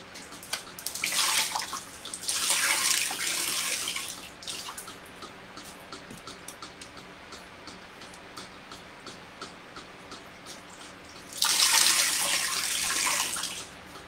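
Water squeezed out of freshly dyed yarn and streaming down in three gushing bursts, with quiet dripping and handling sounds between them, close by.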